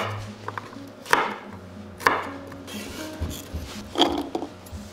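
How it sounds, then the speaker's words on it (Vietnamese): A knife chops onion and garlic on a cutting board in a few distinct, firm strikes spaced about a second apart, with softer scraping between them, close and clear with no talk. "Đầu tiên mình sẽ cắt hành và tỏi."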